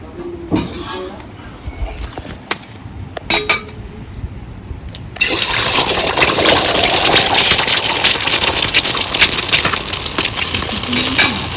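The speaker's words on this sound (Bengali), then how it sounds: "তেল গরম হয়ে গেছে এবার ডিমও ভেজে নেব" A few clinks and a voice at first, then a sudden loud, continuous sizzle of an egg hitting hot oil in a pan that fills the rest.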